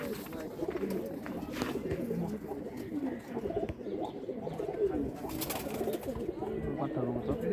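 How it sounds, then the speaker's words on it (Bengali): Pigeons cooing in a loft, soft low repeated coos from several birds, faint and continuous, with occasional fluttering and someone talking quietly in the background. "যে কবুতরগুলো দেখাইতেছে এগুলো সব পাঠা পাঠা কবুতর"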